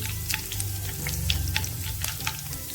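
Curry leaves and a dried red chili crackle and sizzle in hot oil with mustard seeds, a close, busy spattering with small pops throughout. No talking.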